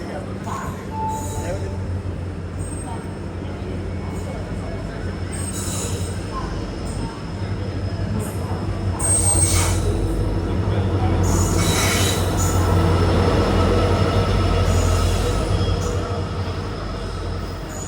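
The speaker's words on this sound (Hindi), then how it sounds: "यहाँ पे अराइवल हो रहा है अपनी गोवा एक्सप्रेस का, और अभी भी इसमें डीजल इंजन जो है वो इस्तेमाल होता है" The Goa Express, hauled by a diesel locomotive, pulls into Madgaon railway station with a steady low rumble, wheel squeal and clatter of the carriages that builds toward the middle and stays loud throughout.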